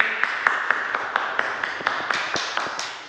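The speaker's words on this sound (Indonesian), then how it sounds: "Kita kasih tepuk tangan dulu." Brief scattered clapping in a classroom during a biology teaching practice session, sparse claps at an uneven pace rather than full sustained applause, close and moderately loud with no talking over it.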